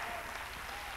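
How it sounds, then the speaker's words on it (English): Church congregation clapping hands after a closing prayer, a short dense wash of applause from a large group, steady and moderately loud with no break. "Clap your hands."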